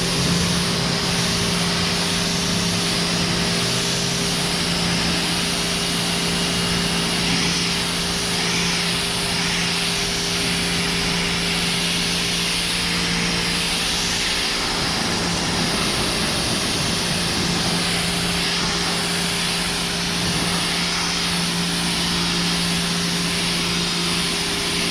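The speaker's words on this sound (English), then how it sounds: "Let's go ahead and get the pressure washer out." Pressure washer spraying a hot tub cover outdoors, a steady loud broadband hiss and engine drone with a constant pump hum running throughout, no talk.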